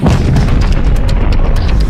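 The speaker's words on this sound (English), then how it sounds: "you've got the formula for a massive explosion" A massive planetary explosion effect, a loud, dense, continuous roaring boom with rumbling crackle throughout.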